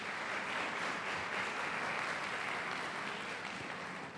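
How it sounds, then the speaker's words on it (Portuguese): A church congregation applauds at a family worship service, a broad, sustained wash of clapping heard from some distance, steady and fairly soft with no speech. "Dê a melhor salva de palmas ao Senhor,"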